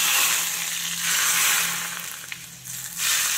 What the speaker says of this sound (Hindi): इसमें हम डालेंगे तेल, और तेल में हम डालेंगे यहाँ पर कश्मीरी मिर्च थोड़ी सी पाउडर